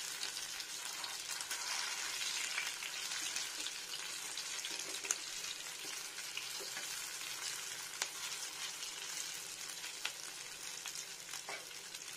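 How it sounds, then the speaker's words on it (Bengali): Chicken kofta balls fry in a pan over medium heat, giving a constant close sizzle with scattered small pops and crackles and no voices. "এবার আমি মিডিয়াম টেম্পারেচারে একটু ভালো করে ভাজবো"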